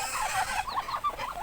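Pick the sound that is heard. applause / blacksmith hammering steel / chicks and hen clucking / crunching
chicks and hen clucking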